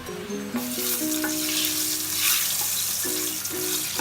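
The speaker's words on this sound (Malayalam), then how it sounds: "പട്ട, കരയാമ്പൂവ്, ഏലക്ക, പിന്നെ തെക്കോല, ഇത്രയും സാധനങ്ങൾ ഇട്ടിട്ടുണ്ട്. ഇതൊന്ന് വഴറ്റി കൊടുക്കാം." Cinnamon, cloves, cardamom and other whole spices sizzle in hot oil in a pan for Kerala-style chicken biryani, a steady close frying hiss under background music.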